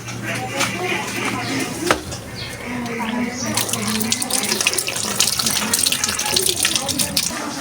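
Water runs for a bath in a home, splashing steadily from a tap with occasional knocks and clatters, while voices murmur in the background.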